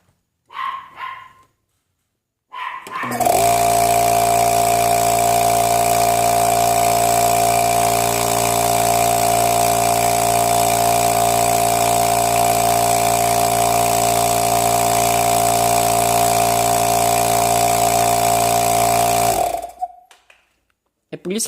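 A 2 CV two-pole compressor motor runs with both coils and both capacitors connected, giving a steady, loud, strongly tonal hum and whine that holds unchanged for about seventeen seconds before cutting off, with brief clicks and noise around its start and stop.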